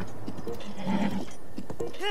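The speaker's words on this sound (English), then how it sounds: "Now, the horse can sometimes be uncooperative." A horse in the Zelda: Breath of the Wild video game gives a short neigh and whinny, with some clip-clop hoof sounds around it, fairly close, while a person talks over it.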